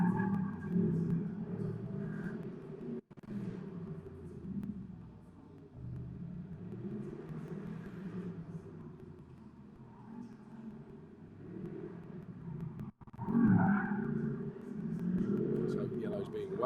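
Mercedes race cars lap a track with a continuous low engine rumble and the rise and fall of revs, while a commentator talks over them almost the whole time.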